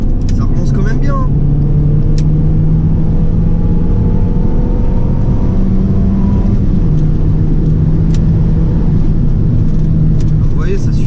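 A Peugeot 206 RC hatchback's engine pulling and accelerating on the road, a loud steady drone with rising pitch under heavy wind and road noise inside the cabin, with talking over it.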